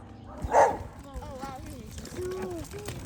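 A dog barks once, fairly close, amid outdoor background noise and people talking nearby.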